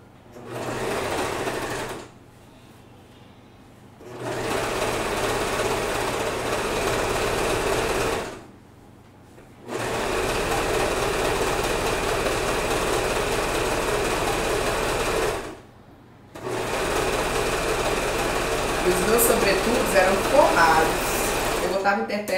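An overlock sewing machine serges the edges of blouse and kimono fabric, running loud and close in four steady whirring bursts separated by short pauses.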